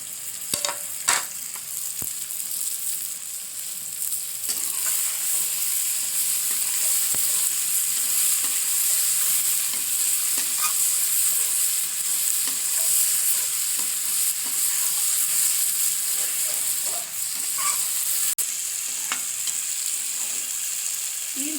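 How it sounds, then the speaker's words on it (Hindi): Okra fries in a pan with a constant bright sizzle throughout, broken by occasional clicks and scrapes of stirring, close and loud with no talk. "तीन चार मिनट तक हमने इसको फ्राई किया है, इस तरह से फ्राई करना है इसको"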